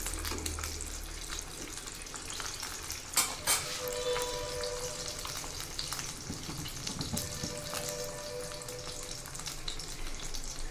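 Egg sizzles and crackles steadily in a hot pan, a dense continuous frying hiss with faint clinks of a utensil and no voices.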